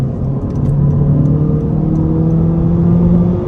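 A 2024 Honda Civic Sport Hatchback engine revs hard toward its redline, a loud, sustained rising drone with steadily climbing pitch from inside the cabin.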